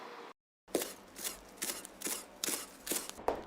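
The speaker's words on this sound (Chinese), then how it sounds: "哈楼叶切丝剁碎" A knife chops wild hala leaves finely on a board for a Guangdong river-village dish, giving a close, crisp series of about nine evenly spaced cuts after a brief silence.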